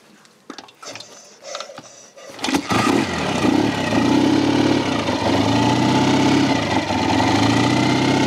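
A classic BSA motorcycle engine with a balanced crank, heard after a few light mechanical clicks and knocks as it starts, then settles into a steady, smooth, close idle.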